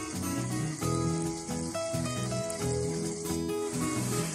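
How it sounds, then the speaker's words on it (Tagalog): Mushrooms in soy sauce bubble and sizzle in a pan, a soft steady crackle of simmering liquid heard close and quiet throughout, with no talking. "So ngayon kumukulo na siya"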